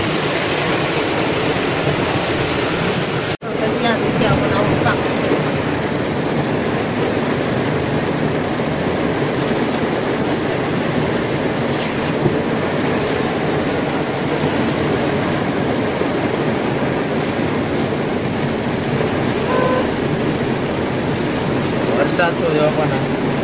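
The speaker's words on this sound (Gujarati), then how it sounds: "વરસાદ ચાલુ થયો એમાં, એટલે પાણી હવે જોરદાર આવી છે" Heavy rainwater rushes through the flooded streets of Junagadh during a downpour, a loud, continuous roar of fast-flowing water that stays steady throughout.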